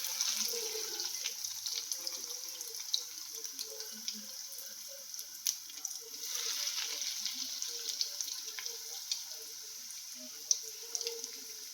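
Bread cutlets frying in hot oil over a medium flame, a steady crackling sizzle with scattered pops and occasional clinks, close and continuous without speech.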